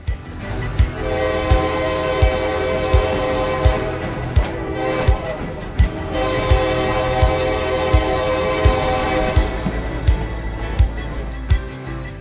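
A train rolls past loudly with a sustained horn blast and a steady rhythmic clatter of wheels on rail joints throughout.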